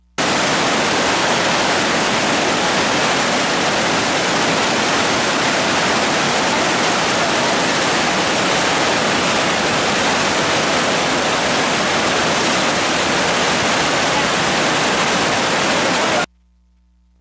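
Taughannock Falls, water running and falling down a steep rocky slope on a wet winter day, heard as a loud, steady, dense roar of white noise that cuts off abruptly.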